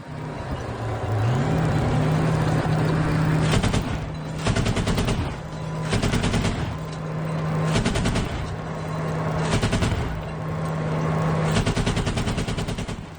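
A BMPT Terminator combat vehicle fires its 30mm automatic cannon in five or six rapid bursts of heavy pounding shots, separated by short pauses over a constant engine drone.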